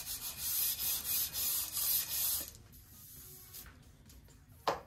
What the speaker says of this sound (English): now I'll sand the whole sheet